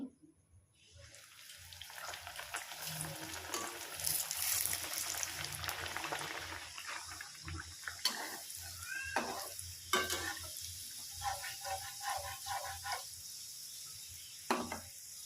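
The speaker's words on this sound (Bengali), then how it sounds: "সাইডে আমার তেলটাও গরম হয়ে গিয়েছে, এবার আমি ভেজে নেব। কড়াইতে দিয়ে দিচ্ছি।" Pea-stuffed kachori go into hot oil in a wok and fry with a low, steady bubbling sizzle. Faint clinks and scraping sounds punctuate the frying at intervals. The sound starts near silence and holds at a modest level.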